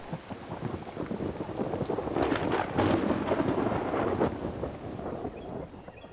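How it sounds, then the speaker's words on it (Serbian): A nighttime thunderstorm over a river island with old willows: heavy rain and wind roar continuously while a long, rolling thunder peal swells loudly through the middle and slowly fades. "nisu retke ni nagle olujne promjene vremena sa munjama i gromovima"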